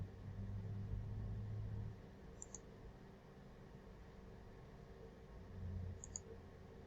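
A computer mouse clicks twice while someone works in an Excel spreadsheet: two faint, sharp clicks a few seconds apart over a low, steady room hum, with no talking.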